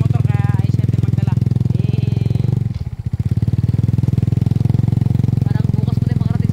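Motorcycle engine running steadily at a low, throbbing idle near a beach at night, briefly dipping before settling back, with voices talking over it.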